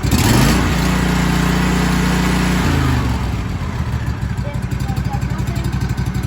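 A 2014 Wright Velke 48 stand-on mower's small engine runs up loud and close, holding a steady high idle before dropping into a lower, pulsing warm-up idle, with a voice talking faintly over it.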